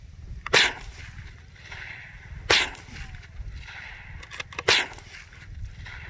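A toy gun fires three sharp, cracking pops, roughly two seconds apart, over a low steady background hum.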